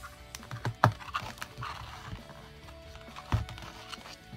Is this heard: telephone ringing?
no